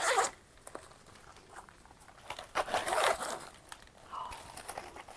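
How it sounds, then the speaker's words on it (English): Zipper pull on a quilting notions storage case being worked, giving brief close scratchy zipping bursts between quieter rustling handling sounds. "Oh, look at the little zip pull."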